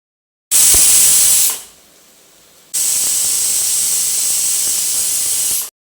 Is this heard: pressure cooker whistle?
yes